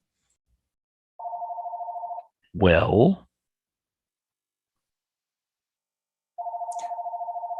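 A telephone rings on a live online work call, two bursts of steady electronic ringing separated by a pause, with a short spoken word briefly cutting in between.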